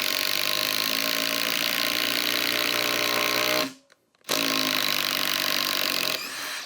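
A loud Bosch power drill fitted with a half-inch drive adapter whirs steadily, stops briefly for a moment of quiet, then spins up again and keeps running.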